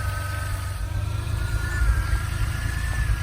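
A DeLorean engine idles at about 900 rpm after a curb idle adjustment, holding a steady low rumble with faint whine and a slight swell, close up and without talking.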